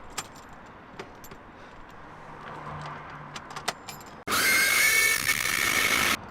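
Car keys jangling near the ignition of a Vauxhall Astra, faint scattered clinks close by, followed by a sudden loud steady rush as the ignition comes on.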